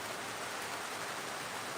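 Rain falls in a steady, even patter, moderately quiet and continuous, with no voices.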